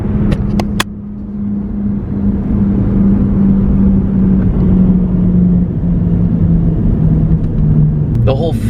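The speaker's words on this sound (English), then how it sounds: "So we're driving down to the gym right now" A car cruising along a road on the way to the gym, with a steady low engine drone and road rumble inside the cabin and a brief clunk near the start.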